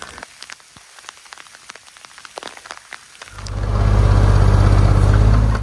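Heavy rain in rural Portugal starts abruptly partway through, rising from a quiet background with scattered drops into a loud, steady, dense downpour on surfaces that continues to the end.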